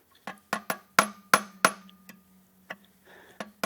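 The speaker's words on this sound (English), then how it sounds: "I can tap the shaft down" Sharp metallic taps of a tool driving a gearbox shaft down on an Aermacchi five-speed conversion, about a dozen irregular knocks in a quiet shop, some close together, each ringing briefly.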